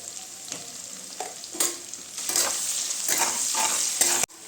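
Chopped onion fries in hot oil with garlic, cumin, dried chilli and a little salt, a close, steady sizzle broken by repeated scraping stirs of a spoon against the pan, with no voices.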